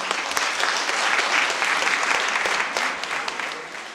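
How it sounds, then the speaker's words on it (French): Audience applause fills a conference hall during a morning event in Paris, a dense, steady wash of many hands clapping at close range for about four seconds, tapering slightly toward the end. "Donc, je vous applaudis et félicitations."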